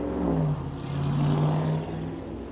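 A misfiring car engine runs steadily nearby, its low uneven drone swelling and easing slightly over a couple of seconds with no talk.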